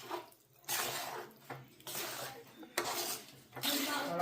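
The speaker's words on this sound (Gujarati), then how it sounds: "જો આ ચાસણી બધી હવે નાખવાની છે આની અંદર. હવે એને મિક્સ કરી નાખવાનું." Thick sugar syrup is poured into an adadiya mixture of urad dal flour, then stirred and mixed in bursts of wet scraping and clinking against the vessel, close by and moderately loud.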